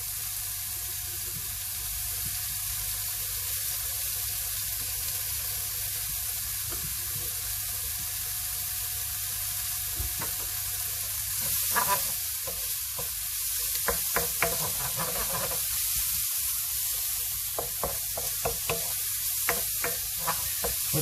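Mushrooms and garlic fry in a pan for Pad Thai, giving a steady close sizzle. Scraping and clicking from stirring breaks through in the second half.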